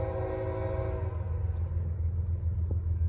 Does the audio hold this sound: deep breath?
no